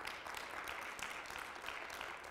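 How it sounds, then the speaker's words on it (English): A church congregation claps steadily for about two seconds, a dense, even wash of many hands with no single claps standing out and no talking over it. "Shall we clap for the mercy of God?"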